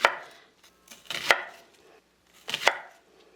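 A knife cuts an onion into rings on a cutting board, giving three crisp, close chops spaced about a second apart, each with a short crunch and a knock on the board, with no talking.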